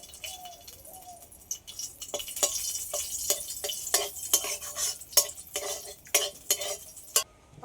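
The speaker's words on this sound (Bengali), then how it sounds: "এই মাছ ভাজা তেলের মধ্যে শুকনো লঙ্কা কেটে দিয়ে দেবো।" Dried red chillies crackle in leftover fish-frying oil, with repeated sharp metallic stirring clinks from a spatula against the pan over a soft sizzle, close and fairly quiet.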